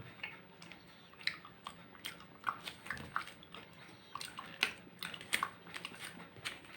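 Hard Mentos Fresh cola-flavoured chewy dragees being crunched and chewed close to the mic, a run of irregular sharp bites and squishy chews over a quiet background.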